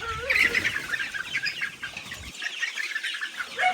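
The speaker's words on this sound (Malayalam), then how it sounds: "നമ്മുടെ കോഴിക്കുട്ടന്മാരെല്ലാവരും ഇതേ പുറത്തേക്ക് ഇറക്കി" Young chickens let out of a coop cluck and chirp with bursts of wing flapping, close and lively, a busy overlapping flurry that quiets partway through.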